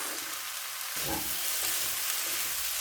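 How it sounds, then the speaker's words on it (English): Spinach, bean sprouts and other vegetables stir-fry in a hot pan for spring roll filling, a constant close sizzle that swells as the sprouts go in, with faint stirring and no talking. "And then just after your spinach has been added, add some bean sprouts."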